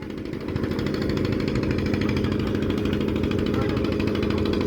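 A boat's diesel engine runs close by with a steady throbbing chug and rough mechanical rattle, holding an even pace throughout.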